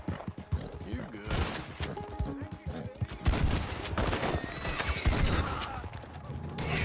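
In Red Dead Redemption 2, a horse's neigh and clip-clopping hooves sit amid dense, rapid gunfire and a clattering shootout, with a person talking over the noise.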